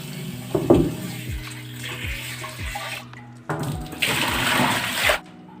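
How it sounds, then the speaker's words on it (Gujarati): Water splashes and pours while an old clay water pot is rinsed several times after cleaning with Eno fruit salt, coming in two bursts of sloshing and gurgling with small knocks and a short pause between. "આ જે માટલું છે એને આપણે ચાર પાંચ પાણીથી સરસ રીતે ધોઈ લેવાનું છે"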